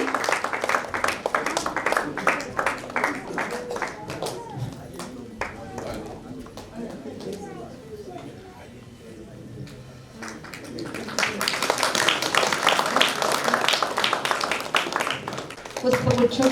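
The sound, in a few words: audience clapping to welcome guests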